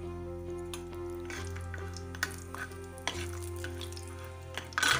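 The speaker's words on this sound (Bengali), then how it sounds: "এদিকে কড়াইতে যে তেলটা রয়েছে ওই তেলের মধ্যেই কটা বড়ি ভেজে নেব" Lentil dumplings (bori) fry in oil in a wok, a soft steady sizzle under a low hum, with a few light clinks of a utensil stirring.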